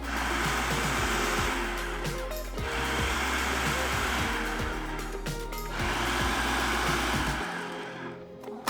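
A food processor chops TVP with spices and tomato paste in three long, loud whirring pulses separated by brief dips, with grinding rattles under the motor, close by and without talking.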